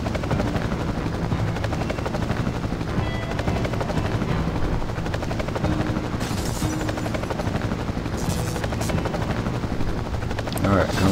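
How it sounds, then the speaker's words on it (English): Attack helicopter in Marc Ecko's Getting Up firing on the player: a loud, continuous rotor drone with rapid machine-gun bursts across the whole stretch and brief gunfire flares near the end. "I'm getting shot by the fucking chopper"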